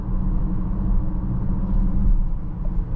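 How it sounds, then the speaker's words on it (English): A 2024 BMW X6 40i heard from inside the cabin with its iconic sounds setting off: a steady, moderately loud low engine and road rumble that stays even throughout, with no talking. "Not as much exhaust noises pumping into the cabin with the iconic sounds off."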